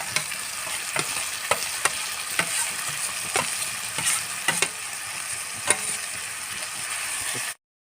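Tomato pieces sizzling in a clay pot for a tomato egg curry, with a steady frying hiss and regular scraping taps of a spoon stirring through it, close and moderately loud.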